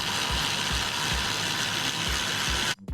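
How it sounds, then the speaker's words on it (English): Rapid ratchet clicking close up as the three reservoir mounting bolts are tightened down on a 1999 Mustang Cobra radiator, a steady run of pawl clicks with faint low thumps, ending abruptly. "Now just tighten down these 3 mounting bolts for the reservoir"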